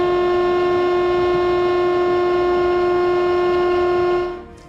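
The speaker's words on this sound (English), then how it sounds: "You can hear he has his horn depressed the entire time" A train's horn held down without a break, one loud steady multi-tone blast that sustains for several seconds near the tracks, then cuts off abruptly at the end.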